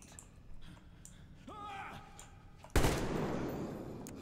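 A single loud gunshot in the video game Metro Exodus fires sharply after a quiet stretch, its blast trailing into a noisy decay, preceded by faint game ambience and a brief tonal vocal-like sound.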